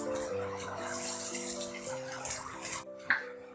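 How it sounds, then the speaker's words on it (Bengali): Water poured into a frying pan holding onions and green chillies fried in oil, a steady splashing pour lasting a few seconds before stopping with a brief clink, no talking. "এখন আমি পর্যাপ্ত পরিমাণ পানি দিয়ে দিব।"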